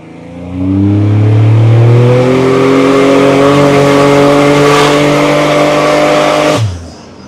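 A 1986 Buick Grand National with a turbocharged engine accelerates hard, its steady, loud engine note climbing in pitch for about six seconds before abruptly cutting off, with no talking.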